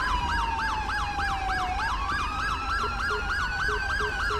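An ambulance siren in the LSPDFR police video game wails continuously in a rapid repeating yelp pattern, loud and steady throughout, with a low engine rumble beneath and no talking.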